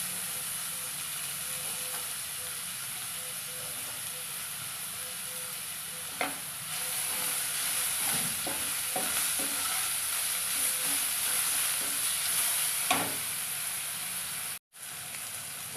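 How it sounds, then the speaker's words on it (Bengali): Diced potatoes and dried red chilies frying in oil, a continuous loud sizzle with scraping stirs of a spatula through the middle stretch and a brief dropout near the end. "লঙ্কাটা একটু ভাজা ভাজা হয়ে গেলে আমি ছোটো ছোটো করে কেটে রাখা আলুগুলোকে ভেজে নেবো"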